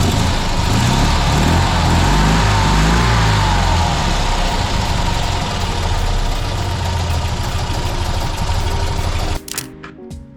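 A Fiat 126p (Maluch) engine runs steadily after starting, a loud, close, continuous rumbling idle that fills the clip and then cuts off abruptly near the end, followed by a few brief clicks.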